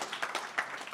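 Audience at a startup pitch night applauds in a brief, dense burst of clapping with a few louder peaks, moderately distant and without talking.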